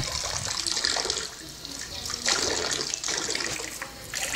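Water pours steadily into a swimming pool with a continuous, fairly loud rushing and splashing that swells and dips slightly over several seconds, with no clear voices.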